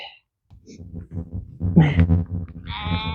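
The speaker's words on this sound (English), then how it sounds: "Let's take a look at the sheep instead." Sheep on a smallholding farm bleat up close, several wavering calls rising in loudness over a few seconds, one after another with short gaps, in an otherwise quiet setting.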